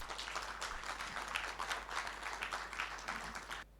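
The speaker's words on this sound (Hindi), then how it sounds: "एक बार जोरदार तालियां अपने लिए।" Dense, steady applause from a seminar audience, many hands clapping together for several seconds before abruptly stopping.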